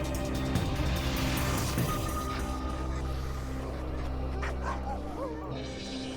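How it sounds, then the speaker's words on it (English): Sled dogs in Greenland bark, yip and whimper together in a busy outdoor chorus, with overlapping calls over a steady low rumble throughout. "sled dogs have been a symbol of wealth here and a necessity for survival"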